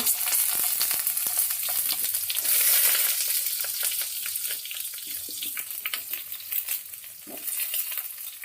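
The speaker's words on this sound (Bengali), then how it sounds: "পাঁচফোড়নে ভাজা এবার কেটে রাখা সবজিগুলো এক এক করে আমি এর মধ্যে দিয়ে দেব" Chopped vegetables such as eggplant, potato and pumpkin frying in oil with panch phoron spices for datar chochori, a loud continuous close sizzle broken by stirring clicks and scrapes, no voices.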